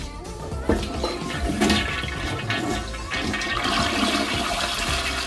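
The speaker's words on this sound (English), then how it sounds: "Oh, we're gonna have to do a second flush." A toilet flushes loudly and close by, a rushing swirl of water that keeps gurgling and draining for several seconds without any talk.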